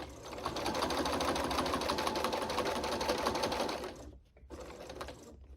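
A sewing machine stitches along a fabric edge for a picture frame flange border, a loud steady whirring run of stitches that stops briefly, then a short second burst.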